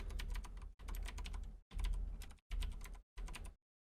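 Typing on a PC computer keyboard while entering Rust server setup commands, five quick, close bursts of dense key clicks separated by brief pauses, then silence.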